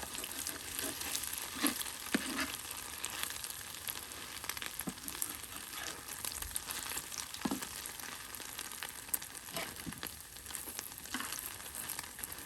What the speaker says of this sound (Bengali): অল্প সময়ের মধ্যে একদম কতগুলো ডিম একদম ভাজা ভাজা হয়ে গেল।